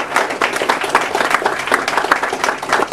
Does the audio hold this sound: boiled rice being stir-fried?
no